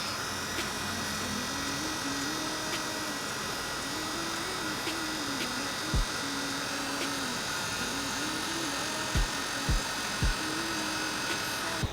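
A small electric fan whirs steadily close by while drying eyebrow makeup, a constant faint motor hum broken by a few brief knocks and clicks.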